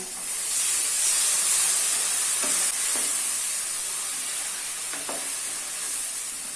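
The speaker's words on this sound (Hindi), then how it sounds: "अभी इसमें हम लोगों ने टोमेटो की जो प्यूरी बनाई है वो ऐड कर लेना है और मिक्स कर लेना है।" Tomato puree cooks in a pan with a loud, steady hissing sizzle, broken by a few soft scraping stirs, heard close with no speech.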